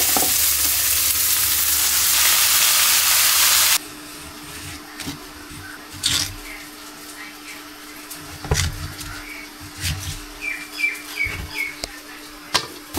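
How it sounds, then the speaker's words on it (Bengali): Red amaranth greens go into a pan with onion, green chili and garlic, a loud hissing sizzle at first that drops abruptly, followed by quieter frying crackles and scraping stirs nearby. "লাল শাকটা বসাই দিই। পেঁয়াজ, কাঁচামরিচ,"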